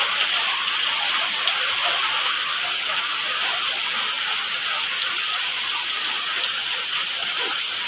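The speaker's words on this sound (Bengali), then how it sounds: "শেষমেশ বৃষ্টির দর্শন পেলাম আর কি" Rain falls outdoors as a steady, fairly loud hiss, with scattered sharper drop impacts standing out now and then across the whole stretch.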